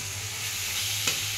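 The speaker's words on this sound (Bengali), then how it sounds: "এবার এটা একটু ভালো করে নেড়ে নেব" Moong dal being stirred in a frying pan while cooking oats khichuri, a soft continuous scraping sizzle with one sharper clink of the spoon near the end, no voices.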